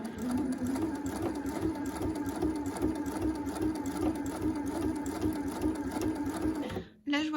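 A Pfaff sewing machine fitted with a bias binding foot stitches in a fast, even mechanical hum of needle strokes, running steadily up close before stopping abruptly near the end.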